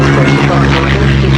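An aircraft taxiing onto the runway at an airshow, a loud, steady propeller engine drone filling the short clip close by, with an announcer's voice over the top.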